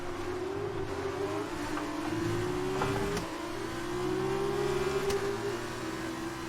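An F2 race car engine in F1 2019 holds a high, steady whine at speed, its pitch climbing and dipping slightly through gear changes, with a couple of sharp clicks over the continuous drone.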